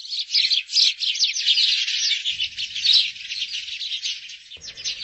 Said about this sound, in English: some lovely bird song